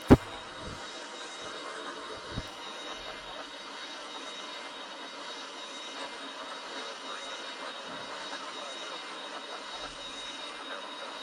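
A jet airliner in a flight video game takes off with a steady, continuous engine roar at moderate loudness, broken only by a couple of brief clicks and no talking.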